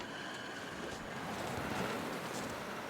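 Continuous wind in the video game The Long Dark rushes and roars steadily throughout, a broad hissing gust with no voices.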